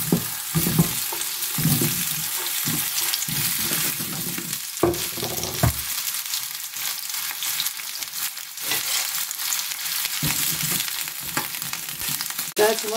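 Zucchini fry in a pan with a steady close sizzle, broken by bursts of stirring and scraping as the pieces are moved around.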